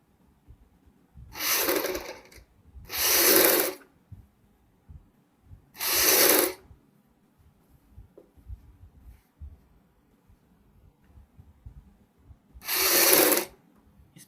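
A sewing machine stitches the buckram piece of a kurti in four brief, separate spurts of fast mechanical clatter, each stopping abruptly, with near-silence between them.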